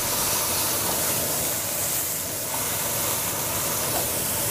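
A chuck roast sears in a Nordic Ware Pro Cast oval roaster with a loud, continuous hiss and sizzle throughout. There are no voices.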